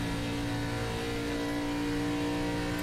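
An ARCA series race car in iRacing circles Las Vegas Motor Speedway, its engine droning steadily under light throttle with a sustained buzzing hum, loud and continuous, no voices.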